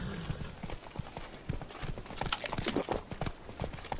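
Roach, the horse from The Witcher 3, gallops with rapid, rhythmic hoof clip-clops, close and moderately loud over faint game ambience.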